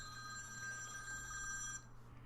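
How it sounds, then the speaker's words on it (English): A phone alert rings with a bright repeating electronic tone over a low background hum, fairly faint, then cuts off abruptly near the end, with no one speaking. "I'm not turning off my phone alerts."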